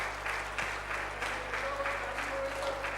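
An audience applauds Shivam Pal at the Indian Seafarer's Choice Awards ceremony. The clapping is steady and moderately faint over a constant low electrical hum.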